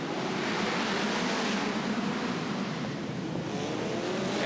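A midget race car accelerates hard on a dirt oval during a national feature event, its engine a dense, distant roar blended with crowd and track noise, holding steady without any speech.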